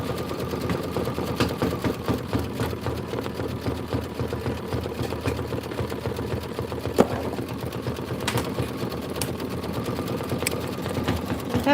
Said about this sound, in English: This is just a minute of stitching.